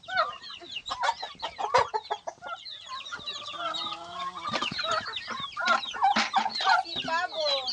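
Chickens, including a rooster, cluck and call busily while being fed cracked corn and another feed, close and steady, with some soft talk mixed in.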